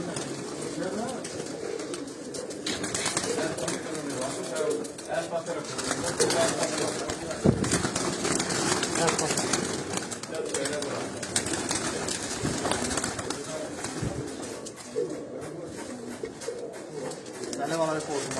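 Pigeons cooing in a loft setting, a steady mix of soft, repeated coos and bird calls that run throughout, with people talking over them.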